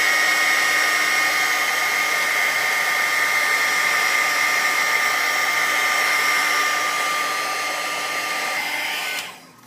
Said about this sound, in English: I put my heat gun on this area for a little bit, and it's pretty dry